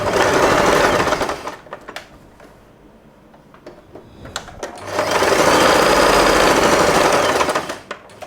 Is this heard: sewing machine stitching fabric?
yes